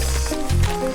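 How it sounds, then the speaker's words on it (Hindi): Falling water splashes and drips in a short, wet, squishy burst lasting about a second, close and fairly loud. "हाँ, ये तो बस पानी है। पानी तो गिरता ही रहता है हम पर।"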